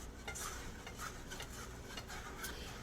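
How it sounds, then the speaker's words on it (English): A silicone whisk stirs whole milk in a pan, giving soft, steady scraping and swishing strokes with faint clicks against the pan bottom, quiet and close, with no voices. "So just keep gradually adding that whole milk in. And you're constantly stirring."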